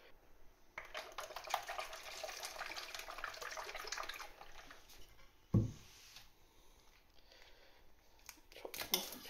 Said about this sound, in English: I'm going to actually fill this bowl with some water and lemon juice